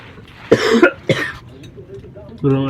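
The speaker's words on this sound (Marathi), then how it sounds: "खोकला पण आहे झालाय मला कालपासनं" Two sharp, loud coughs in quick succession, followed by quieter murmuring and the start of someone speaking.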